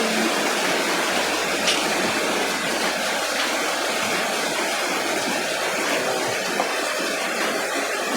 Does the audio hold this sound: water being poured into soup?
yes